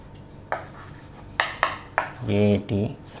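Brisk rubbing strokes wiping writing off a classroom board, several short scrubbing swipes in quick succession, followed by a brief spoken voice.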